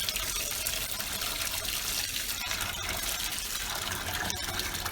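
Running water flows steadily while a wig is rinsed a second time in warm water, a continuous close splashing stream that stays even and unbroken throughout.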